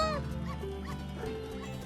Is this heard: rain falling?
no